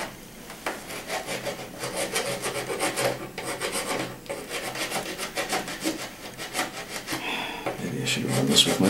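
A hand file rasps back and forth against a deep dark green hardware part during an Xbox modding job, giving steady gritty strokes that stay close and moderately loud for the whole stretch.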